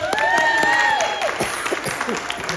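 Audience applause and cheering at the stage of a Western-themed steampunk convention's tea dueling finale: crowd clapping under whoops and excited voices, loud at first and thinning out toward the end.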